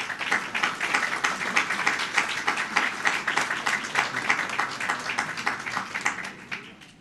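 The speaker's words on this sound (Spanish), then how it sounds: "Despidamos al Presidente del Congreso con un fuerte aplauso." Farewell applause at a congressional session for the President of Congress: a sustained, dense crowd clapping throughout, steady and moderately loud, tapering slightly at the end.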